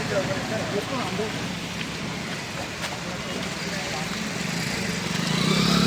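Rain falls steadily during a Ganesh arrival procession, an even hiss across the whole stretch with a low vehicle rumble building toward the end and voices in the background.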